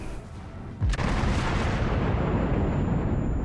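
One heavy naval cannon blast from the Fuso battleship in a video game booms out, and a loud, sustained rumbling roar follows it.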